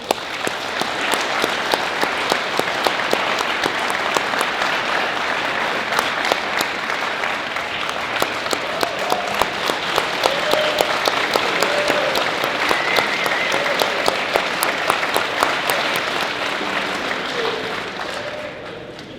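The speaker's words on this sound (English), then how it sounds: "I'd like to give them a round of applause and let them start." An audience gives musicians a sustained round of applause at a prison facility, dense steady clapping that carries for the whole stretch before tapering off at the end.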